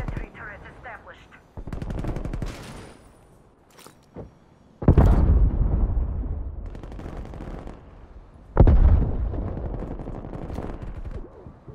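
Bursts of sentry turret gunfire from Call of Duty Black Ops Cold War, several loud rapid-fire volleys separated by short pauses, with heavy booming onsets and rattling tails.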